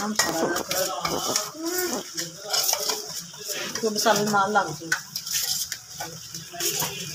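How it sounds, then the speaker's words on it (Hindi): Spices stirred and mixed in a bowl for a chicken recipe, giving irregular clinks and scrapes of a spoon against the dish throughout, with someone talking over them. "इन तमाम स्पाइसेस को मैंने करना है अच्छे से मिक्स"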